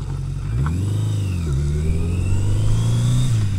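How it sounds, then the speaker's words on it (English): A bunch of cars passing on the road while the listener rides along, a steady close engine drone with rising and falling pitch as vehicles accelerate and sweep by, loud and continuous with no talking. "Here comes a bunch of cars."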